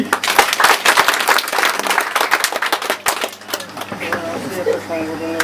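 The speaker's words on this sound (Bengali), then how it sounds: "সবাইকে করতালি দেওয়ার জন্য অনুরোধ করছি" Audience clapping at a designers' training session, brisk uneven hand claps from a crowd that thin out and fade, with a voice starting to speak as the clapping dies down.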